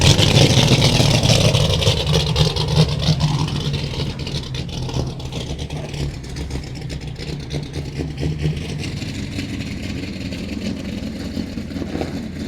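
A 1973 Pontiac Firebird V8 rumbles loud and close as it pulls away across a snowy parking lot, the engine note rising briefly then easing into a steadier, fading drone.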